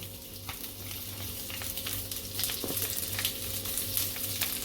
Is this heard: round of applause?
no